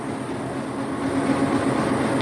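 The Benapole Express pulls away from a station in Bangladesh, a steady close rumble of rolling wheels and carriages that swells slightly as it continues.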